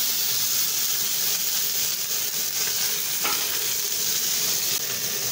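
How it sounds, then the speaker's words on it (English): Tomatoes frying with golden-browned onions in a pan, a steady close sizzle and hiss with soft stirring scrapes throughout, no voices. "So I'll be adding my tomatoes."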